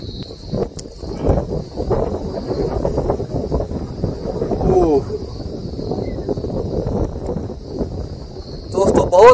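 Strong, cold wind gusting across the Khushab mountains near a hillside shrine, buffeting the microphone with a loud, continuous low roar, and a voice heard faintly through it.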